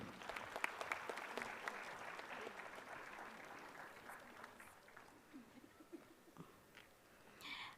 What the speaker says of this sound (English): Everybody cheer for Professor Sana Tabassum